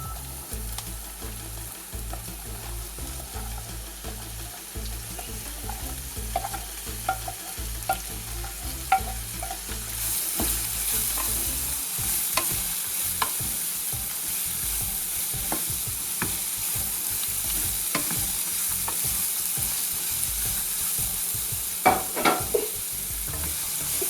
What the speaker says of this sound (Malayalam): ഇതിലേക്ക് ബീറ്റ്റൂട്ട് ഇട്ട് കൊടുക്കാം.